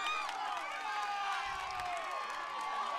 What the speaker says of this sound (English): Look at the excitement in this crowd.